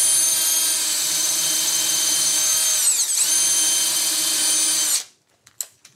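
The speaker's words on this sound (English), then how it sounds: "Countersinking is absolutely necessary because we're into end grain." A power drill countersinks screw holes into the end grain of a wooden bar-table bracket, running steadily and loudly for about five seconds with a brief dip in pitch midway, then stopping, followed by a few faint knocks.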